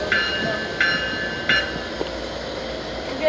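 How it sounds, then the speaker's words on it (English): Amtrak 579 passenger train passing at Fullerton, a steady rumble of rail cars with rhythmic periodic clanks from wheels crossing rail joints, fairly close and continuous throughout. "Amtrak 579, which is what the freight train has to wait for."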